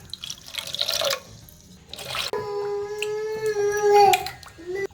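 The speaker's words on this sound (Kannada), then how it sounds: "ಇದಕ್ಕೆ ಸ್ವಲ್ಪ ನೀರು ಹಾಕಿ ಅದನ್ನು ಸ್ವಲ್ಪ ಜಾಸ್ತಿ ಮಾಡ್ಕೊಳ್ತೀನಿ" Water pours into a pan of ground vegetable masala in splashy bursts, its gurgling pitch rising as the vessel fills, close and fairly loud.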